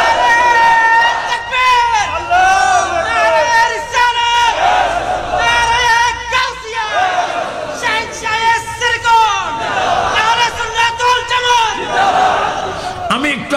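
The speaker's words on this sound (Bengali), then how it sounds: "আপনারা বলবেন জোরে নারায়ে তাকবীর" A large crowd at a religious gathering loudly chants the slogan Naraye Takbir in repeated rhythmic call-and-response waves, with a voice leading between the shouted replies.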